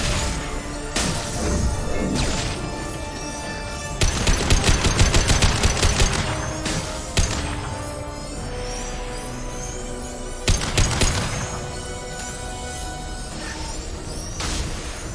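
Gunfire in the video game Mass Effect rattles in dense bursts, with a heavy volley a few seconds in and another around the tenth second, layered over a steady backdrop of game music and effects.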